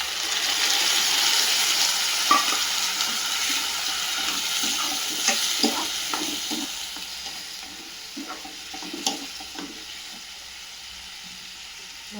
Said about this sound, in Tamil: இந்த ஸ்டேஜில் நம்ம இந்த அரைச்சி வச்சுருக்க மசாலா விழுது சேர்த்துடணும்